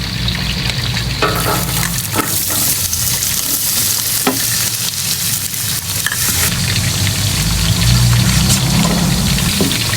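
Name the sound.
garlic sautéing in oil used to fry tofu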